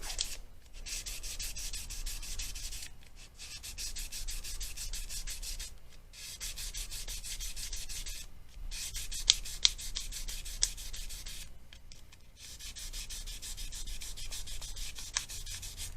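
Sandpaper rubs back and forth on the frets of a Gibson Les Paul Studio guitar, making a steady, close scratchy sound in repeated strokes with short pauses between passes.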